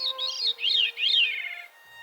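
Wild birds call at the Sapsucker Woods sanctuary, a nearby songbird giving three clear rising-and-falling chirping phrases with a few faint tonal calls behind.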